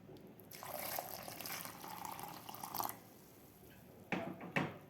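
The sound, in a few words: pouring lukewarm water onto ground coconut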